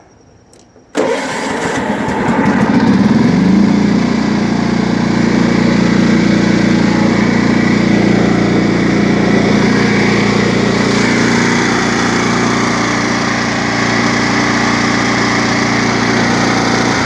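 A John Deere STX38 lawn tractor engine cranks and catches with a sudden start, then settles into a loud, steady, close-up idle with a constant droning hum and no talking over it.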